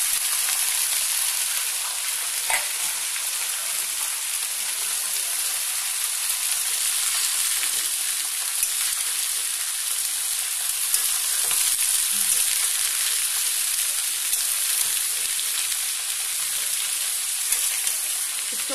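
Onions fry in a pan with a steady, bright, hissing sizzle that holds evenly throughout, close and unbroken, with faint crackles and no voices over it.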